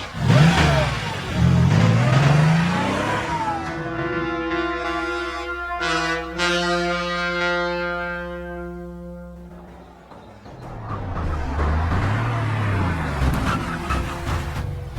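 A car engine in a radio drama revs hard and roars away, rising and falling in pitch through a sustained drive, close and loud, with clatter and mechanical noise around it.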